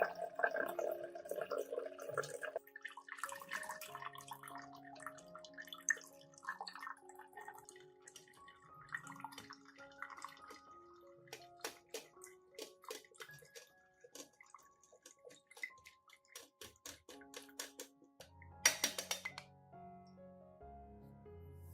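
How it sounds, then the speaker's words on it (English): Cinnamon liquid strained to remove residue gives soft, sparse drips and trickles, close and quiet, with faint tonal clinks of the container and a brief louder splash near the end. "Strain out all the cinnamon residue and keep only the clear liquid."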